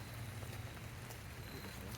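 Steady rain falls outdoors on a hillside cemetery among monuments, a dense, even hiss with soft patter and a low rumble running through the whole stretch, with no voices.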